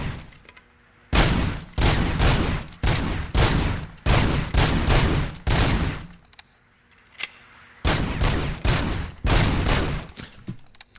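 Loud bursts of automatic gunfire from a weapon in the video game RoboCop: Rogue City, fired in several long volleys of a second or more each, separated by short quiet pauses.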